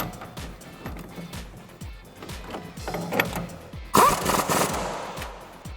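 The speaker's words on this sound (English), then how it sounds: "I'm going to take my 1/2" impact gun, my 21mm" A 1/2 inch impact gun with a 21mm socket tightening a nut during a lowering spring and strut install on a Dodge Challenger, rapid hammering bursts repeating close by, ending in a louder final rattle.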